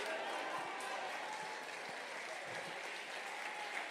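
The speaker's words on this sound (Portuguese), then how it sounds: "Se essas palmas são de esperança, aumente elas" A church congregation applauds steadily, a dense, even wash of clapping that holds for a few seconds without break.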